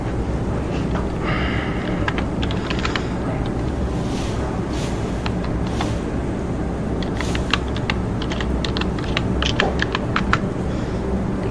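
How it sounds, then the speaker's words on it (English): Computer keyboard typed on while standing, with a scatter of quick light clicks in bursts over a constant rushing background noise. "standing up typing is weird"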